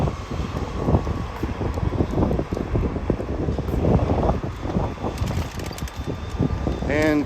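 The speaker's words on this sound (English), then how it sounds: "That wind just keeps wanting to fly my hat" Strong outdoor wind buffets the microphone continuously, a loud, rough roar covering the whole stretch, while a person talks over it.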